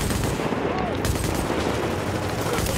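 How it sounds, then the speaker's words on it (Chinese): Light machine gun fire in The Division co-op gameplay, a continuous dense burst of rapid shots filling the whole stretch, loud and close, with game noise around it. "今天轻机枪什么都打不中啊！"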